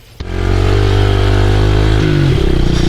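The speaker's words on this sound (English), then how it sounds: "Sorry, the bike's not warmed up yet, so it's running a little weird." A small pit bike engine idles loud and close on a pit bike track before it has warmed up, running rough with an uneven, lumpy note and a brief stumble near the end.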